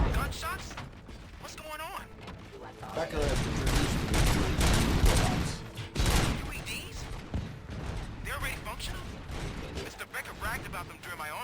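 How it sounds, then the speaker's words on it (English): Gunfire in a Robocop video game, dense bursts of shots and mechanical clatter over a busy game soundtrack, loudest in the middle, with game voices mixed in. "Gunshots? What's going on?"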